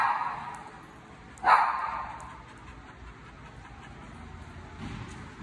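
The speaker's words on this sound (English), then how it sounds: "What's he barking at, buddy?" A single sharp dog bark rings out over quiet outdoor background noise, followed by a fainter sound later.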